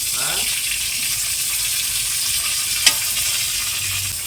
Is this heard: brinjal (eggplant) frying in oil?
yes